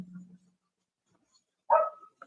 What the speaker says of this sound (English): Oh, that little dog, little stinker.